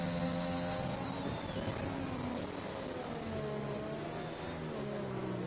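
Several Formula racing car engines in a PlayStation racing game at the Mexico round drone and whine together continuously, a faint dense pack of overlapping engine tones shifting in pitch.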